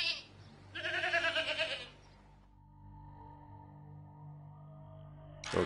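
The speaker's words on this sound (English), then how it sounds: "Let's get the goats in here." A goat in the video game Payday gives a loud, quavering bleat, followed by quieter electronic hums and a brief burst of noise at the end.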